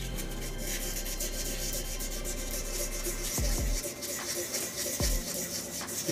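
Sanding scratches out of a clear epoxy resin shaving brush handle in blue and gold, a steady continuous rubbing hiss with a low hum underneath, broken by a few sharp knocks near the end.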